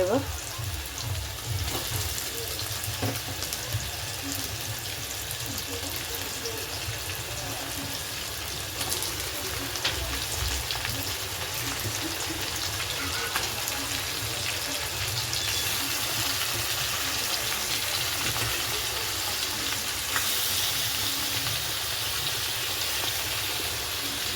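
Meat and onions fry in a pan, a steady, fairly loud sizzle and crackle that runs continuously throughout, with faint bits of kitchen clatter.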